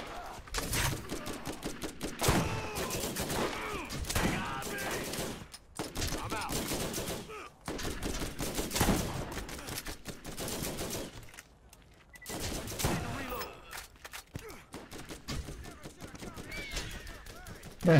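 Rapid gunfire from a shotgun and other weapons in the first-person shooter Borderlands, with bursts of shots and impacts packed across the span, broken by short pauses, alongside game effects and a voice speaking at times.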